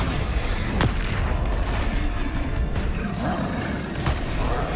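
Booming blasts of the Bombarda spell in Hogwarts Legacy, several sharp explosive bursts spaced across a dense, rumbling combat backdrop.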